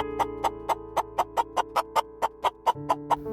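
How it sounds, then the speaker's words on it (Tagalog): A rhythmic series of chicken clucks, about thirteen evenly spaced, close and clear over a steady low background hum. "Itinaas na ni Imo yung plaka para paamuyin yung mga manok."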